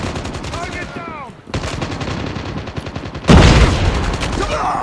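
Rapid bursts of automatic gunfire in the mobile shooter game Call of Duty Mobile come loud and close, with dense repeated shots, a brief pause, then a heavier volley near the end.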